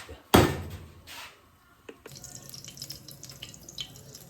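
Water poured into a pot of duck civet on the stove, a brief loud splash followed by dripping and trickling sounds, then quieter clinks of kitchen activity.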